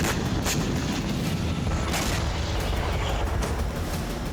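British-made Storm Shadow cruise missiles strike Russian landing ships at Sevastopol, several heavy blasts cracking out over a continuous rumbling, roaring background.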